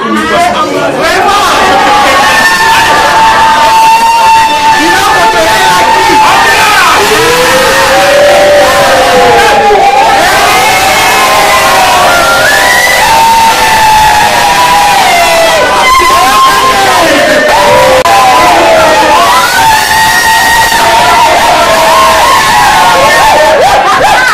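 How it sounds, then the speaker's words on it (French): A large wedding crowd cheers and acclaims in praise of God, with loud, sustained ululating and shouting voices overlapping in a dense roar that fills the whole stretch at full volume. "S'il vous plaît, on acclame à la gloire de Dieu."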